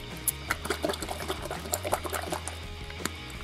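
A toy bathtub filled with water gets shaken, its contents sloshing and rattling in quick uneven splashes under a steady low mechanical hum.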